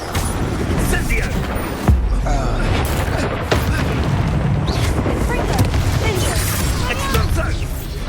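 The Incendio fire spell is cast in Hogwarts Legacy during a loud, dense battle. Booming blasts and crackling bursts mix with shouted voices and a steady rumble.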